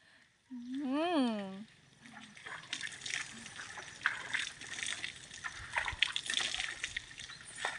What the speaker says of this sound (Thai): มีการขอน้ำด้วยให้พ่อสาดน้ำเลย